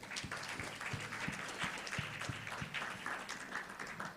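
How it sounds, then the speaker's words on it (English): An audience at a World Children's Day media symposium applauds for UNICEF Nigeria, a moderate, steady round of clapping heard at some distance. "Ladies and gentlemen, please give a warm round of applause for UNICEF Nigeria."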